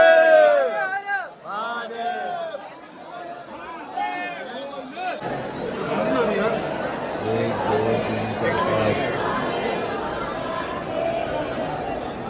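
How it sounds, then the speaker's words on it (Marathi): Pre-dawn crowd waiting in line at Omkareshwar temple, a continuous murmur of many voices at close to middle distance, with clearer nearby talk near the start. "ही आता गर्दी वाढत चाललेली आहे."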